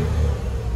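A Range Rover engine at a Copart salvage yard gives a brief, low, steady rumble with only slight rise, fairly close and without talk.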